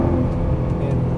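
Nissan GT-R engine accelerating under throttle, a steady loud droning roar held close throughout the short burst, with no talk.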